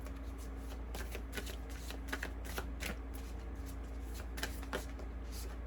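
Tarot cards are shuffled close by in a steady run of quick riffling flutters and light slaps, with a low hum underneath.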